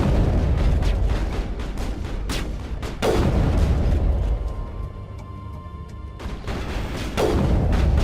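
Gunfire and explosions during sniper-rifle combat in the Mass Effect video game: a dense run of heavy booms and sharp cracks, loud and close, with a brief quieter lull before the blasts resume, and no voices.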